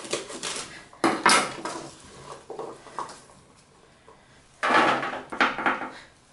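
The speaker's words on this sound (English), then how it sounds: "I'm going to go ahead and cut the asparagus into, third or fourths, depending on the size of the asparagus spears" A knife chops asparagus spears into pieces on a cutting board, making a few sharp clustered knocks and taps separated by quieter pauses, close by and with no talking.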